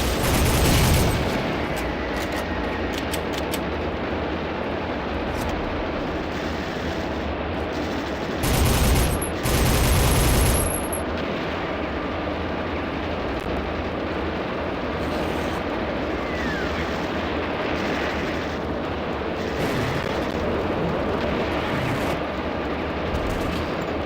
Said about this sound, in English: Look at all these exploding people.